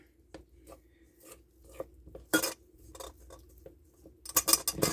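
A spoon stirring lemon pizzelle batter in a bowl makes soft scraping strokes and sharp clinks against the side, sparse and close by, with brief pauses between strokes.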